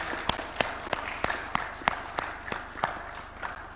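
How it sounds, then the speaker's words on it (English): Scattered, fairly sparse clapping from a small group at a State House signing ceremony for a cooperation agreement, with distinct individual claps in an uneven rhythm, heard somewhat distant. "You can give them a round of applause."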